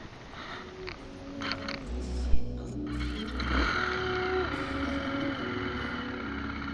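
A KTM 350 SX-F dirt bike engine turns over and catches, then idles with a rough, steady rumble nearby.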